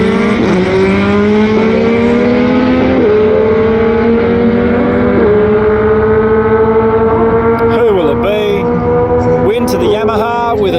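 A Kawasaki ZX10R and an MT9 launch side by side at a bike night drag race, engines screaming loud and close through rising gear changes, with revs climbing and dropping several times before the bikes pull away.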